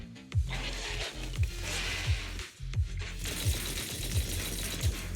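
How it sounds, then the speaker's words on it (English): In Zenless Zone Zero, a modded Guardian Mark II tactical mech moves with heavy rhythmic mechanical thuds and whirring servo clatter, regular footfall-like beats under a dense grinding machine bed. "Is this a modded Guardian Mark II tactical mech?"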